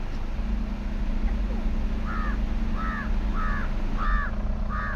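A crow in Kodaikanal gives a series of five evenly spaced caws, moderately distant, over a constant outdoor rumble and background murmur.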